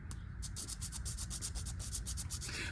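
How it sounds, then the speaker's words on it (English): A small model piece is rubbed back and forth along a sanding board in steady rhythmic strokes, a close, continuous scratchy rasp with no talk. "when it comes to sanding, you can take the piece that you're working with and just move it along the board"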